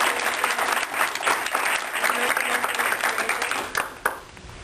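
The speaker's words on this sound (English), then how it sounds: "help me give Humberto a hand" Audience applause at an association's annual meeting, a steady wash of many hands clapping with a few sharper claps near the end, moderately loud and fairly close.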